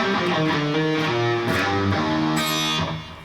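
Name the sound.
guitar notes in Lydian mode, sharp fourth, song intro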